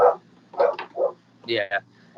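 A dog barks in several short, sharp bursts nearby, mixed with a man's brief spoken word during a conversation.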